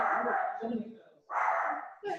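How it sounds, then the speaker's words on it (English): A dog barks in the background of a home setting during an online class, its barks mixed under and between close voices talking. "Riley, the dog's barking."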